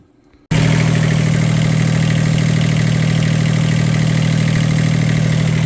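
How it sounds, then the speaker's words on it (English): A Catalina 30 sailboat's inboard engine cranks and catches after a brief quiet moment, then settles into a loud, steady, close idle that continues to the end. "So go ahead and fire this thing up and then make sure everything's working all right."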